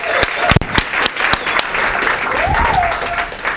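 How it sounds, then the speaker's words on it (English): A crowd claps in steady, dense applause, with a few sharp louder claps and a whistle rising over it. "round of thunderous applause for our action takers"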